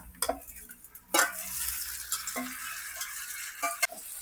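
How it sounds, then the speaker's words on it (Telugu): Tomatoes frying with onions in oil for a chicken biryani: a soft, low sizzle broken by sharp scrapes and clinks of stirring in the pan, with no talk. "ఉల్లిపాయలు అయితే ఫ్రై అయినాయి ఇప్పుడు ఇందులో టమాటా వేసుకున్నాం"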